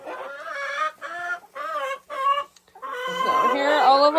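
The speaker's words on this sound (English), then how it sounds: "They're happy little chickens." Chickens cluck loudly in their coop, giving a series of short, bright, rhythmic calls with brief gaps, followed by a longer, busier burst of overlapping clucking and squawks.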